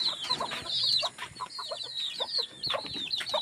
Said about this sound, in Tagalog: Yung aking mga alagang manok, may mga sisiw sila o 10 ang sisiw